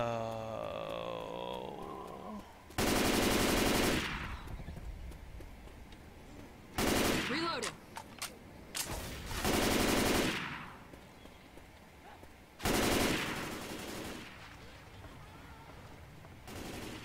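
Gunfire aimed at a hubcap in Left 4 Dead 2, arriving as several loud automatic bursts of a few seconds each, split by quieter gaps with softer in-game ambience and scattered single shots.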